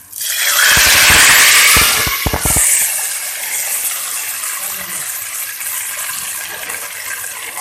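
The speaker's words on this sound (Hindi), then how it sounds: "अब हम ये अपना डाल देते हैं कड़ी के ऊपर तड़का।" A loud burst of hot oil sizzling and crackling as tempering hits eggplant kadhi curry, strongest at first then settling into a steady fizzing hiss.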